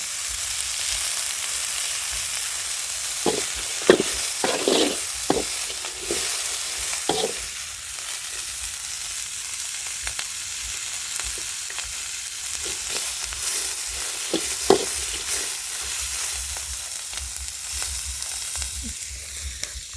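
Silkworm pupae stir-roasted in oil in a pan, a continuous hiss broken by repeated sharp scraping strokes of the spatula, close and fairly loud, with no voices.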